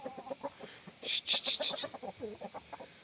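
Chickens cluck softly in short, rhythmic bursts close by while taking a sand bath, with a few sharper higher squawks in the middle.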